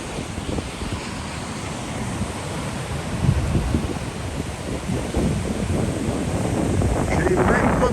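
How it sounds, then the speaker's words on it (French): Waves breaking on a seashore under strong wind during a hurricane period, a continuous roaring wash of surf and buffeting wind noise that swells louder toward the end. "Il y a quelques vagues sur le bord."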